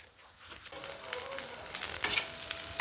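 Eggplant (vanga fry) frying in a pan, a soft steady sizzle building up over a few seconds with faint crackles, close and alone.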